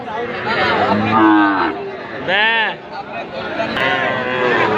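Sahiwal bull calves at a busy cattle market give loud, drawn-out moos up close, one long low call standing out mid-way, over a steady background of crowd chatter and talking.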